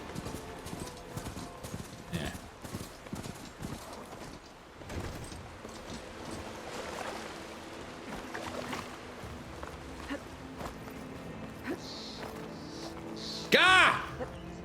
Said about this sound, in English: I think I'm riding a ram.